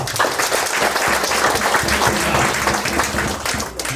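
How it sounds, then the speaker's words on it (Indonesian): An audience at a political gathering applauds a speaker, sustained dense clapping from a crowd that stays loud throughout and eases slightly near the end. "Kita beri aplaus dulu untuk Bapak teman."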